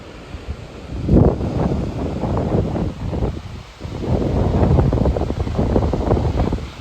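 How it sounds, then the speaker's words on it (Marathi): Heavy rushing water roars at Thoseghar waterfall in the rainy season, a close, steady wash of noise with gusty wind rumbling across the microphone in uneven bursts. "पाण्याचा खळखळाट तुम्हाला कळत असेल"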